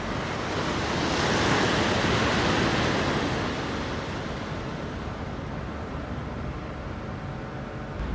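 Waves washing steadily onto a pebbly beach at Napier, New Zealand, a loud continuous broadband roar with gentle swells and some wind noise on the microphone, no voices.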